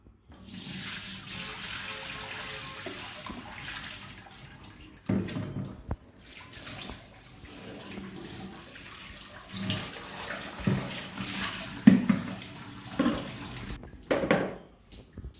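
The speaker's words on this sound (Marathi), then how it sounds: "आणि आता आपण गाळून घेऊ." Water from finely grated raw potatoes being strained off, with splashing and trickling that rises and falls in uneven bursts, plus a few louder sloshes and handling knocks close by.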